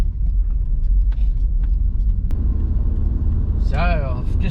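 Steady road rumble from a car cruising along a forest highway near Mandurah, a continuous low drone throughout, with a brief chirpy sound near the end.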